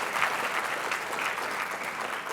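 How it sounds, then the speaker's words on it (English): A room full of people clapping for a speaker at a nurses' union meeting, sustained even applause throughout, fairly loud and close, no speech on top. "We'll give Liz a round of applause too"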